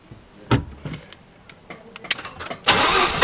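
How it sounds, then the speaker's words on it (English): A Mazda RX7 FD rotary engine cranks and fires up after an ignition key barrel repair, with a few clicks and clunks before the engine catches and roars loudly and close. "moment of truth to see if the car starts"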